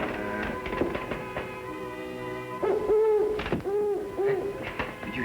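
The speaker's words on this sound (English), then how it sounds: "Oh, Fuzz, it's only a hoot owl" Hoot owl hooting in a 1946 western film, a wavering, tremulous call repeated several times over a hushed night background with a faint orchestral score, moderately loud.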